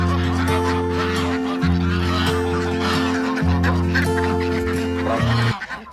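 Geese honk loudly and continuously at a pond, overlapping calls in steady bursts from a flock of waterfowl kept with ducks and other seasonal birds, close and dominant with no talk.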